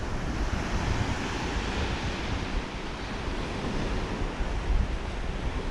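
Surf washes continuously onto a beach, a steady broad roar of breaking waves with some wind noise on the microphone, loud and unbroken with no speech.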